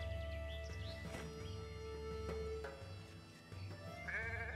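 Sheep bleating in the Renowned Explorers game, several short wavering bleats near and faint over a low steady hum, some overlapping, with no talk.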